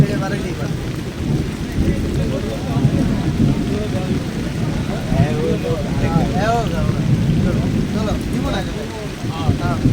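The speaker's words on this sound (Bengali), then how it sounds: "বৃষ্টি" Rain falls over an outdoor cattle market at Bosila in Mohammadpur, Dhaka, giving a steady wash of rain noise with a low rumble underneath, while people talk through it.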